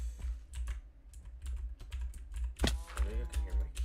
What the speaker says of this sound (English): I know you can hear my keyboard clicking.